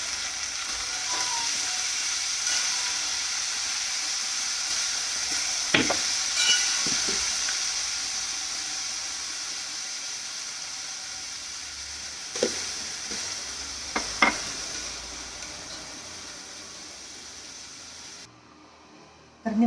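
Chillies and peanuts fry in hot oil in a kadhai for potato fasting khichdi, a steady soft sizzle broken by a few sharp clinks of a stirring spoon, no voices.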